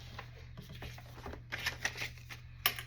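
Material being cut for a journal spine cover, with a series of short crisp snips and rustles, close and moderately loud, over a steady low hum and with no talking.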